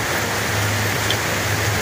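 Heavy rain pouring outside a house terrace, a constant dense hiss of drops hitting surfaces with no pauses, steady and fairly loud.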